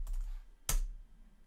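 A burst of computer keyboard typing as a password is entered, a soft flurry of quiet keystrokes followed by one sharper, louder key press, heard alone and close.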